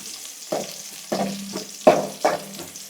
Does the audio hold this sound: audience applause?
no